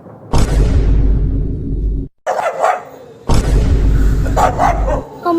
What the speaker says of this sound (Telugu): అమ్మ ఇక్కడ కుక్క ఉంది,